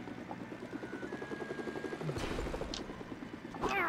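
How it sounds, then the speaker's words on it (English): An arctic helicopter in the LEGO Worlds video game: a rapid, even rotor chop pulsing steadily at moderate volume, joined by brief whooshes and clanks near the end. "A helicopter. Oh, snap. Arctic helicopter."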